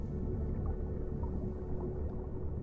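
Whale calls in the ocean, low rumbling, gurgling underwater tones that swell and fade under a constant deep murmur.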